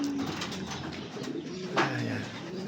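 Pigeons cooing inside a loft, with soft, rolling coos close by over a steady background hum and a brief louder call near the end.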